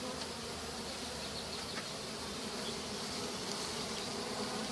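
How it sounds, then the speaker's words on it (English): Bees buzz as a steady, dense drone, a constant close swarm hum holding at an even level throughout with no talking. "Might end up being a bunch of bees"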